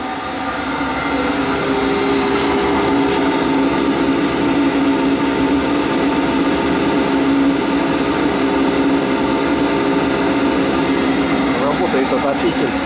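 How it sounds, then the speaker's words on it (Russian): A heater runs steadily in a workshop office on a winter evening, a loud, even mechanical drone with a humming tone that fills the whole stretch without a break. "Работает отопитель."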